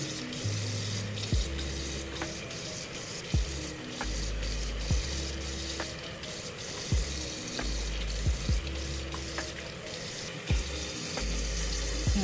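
Tap water runs steadily into a sink while a homemade rice and moringa face mask is rinsed off, a close, continuous splashing wash with a few sharper knocks and splashes.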